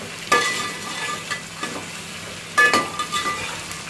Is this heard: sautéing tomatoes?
yes